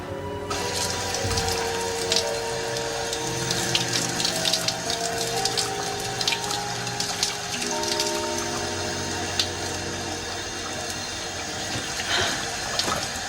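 A shower runs steadily in a prison washroom, water pouring in a continuous, fairly loud gush with faint clattering, heard alone without talk.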